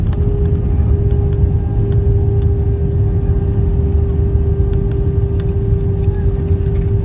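British Airways Airbus A320-232 rolling out after touchdown at Stockholm with engines at idle reverse: a steady, loud cabin roar with a constant tonal whine and no sharp changes, heard from inside the aircraft.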